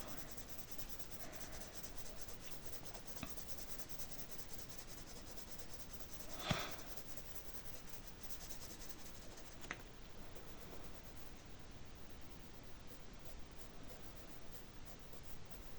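Pencil shading on paper for a drawing of a glass bottle, a faint, steady soft scratching and rubbing of light strokes, quiet and close with no talking.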